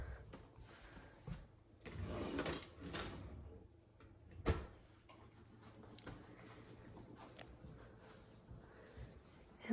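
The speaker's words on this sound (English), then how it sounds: "Let me open a couple of these for you." Kitchen cabinet doors and drawers in a house open with faint, scattered clicks and soft thumps, one sharper knock standing out midway, in a quiet room.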